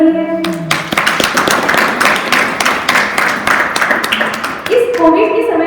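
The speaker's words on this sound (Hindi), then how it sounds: "तो एक बार उनके लिए भी तालियां बनती है" Audience applause at a school's International Women's Day celebration, a crowd clapping steadily for several seconds with dense, fairly loud rapid claps and a voice briefly heard at the start and end.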